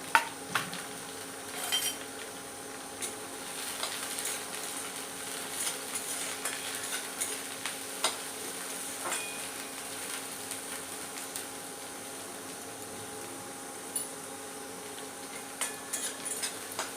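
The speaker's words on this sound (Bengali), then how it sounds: "ফার্স্ট আমি গাজরটা বিনসটা দিয়ে দেবো, কারণ এটা ভাজতে একটু বেশি টাইম লাগে" Carrots and beans fry in a hot wok with a low, faint sizzle, punctuated by scattered light scrapes and metallic clinks of a spatula stirring, quiet and close, with no speech.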